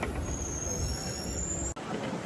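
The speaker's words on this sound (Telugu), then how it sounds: "ట్రైన్ టర్నింగ్ కొడుతుంది" A train rounding a curve on the Visakhapatnam to Araku line during the monsoon, with a long, high, steady wheel squeal over a rumbling carriage, close and continuous, cut off by a brief dropout near the end.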